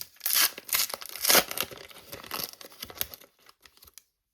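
Panini FIFA World Cup 2026 sticker packets are torn open and crinkled in several close, sharp bursts of paper ripping and rustling, which fade into a few light handling clicks.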